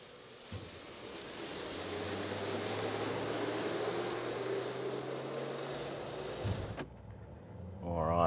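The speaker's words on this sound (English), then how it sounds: "I can feel the weight on the back, but it's accelerating nicely" A BYD Shark 6 ute towing a trailer at maximum payload accelerates, a steady, moderately loud engine and road rumble building then easing before cutting off near the end.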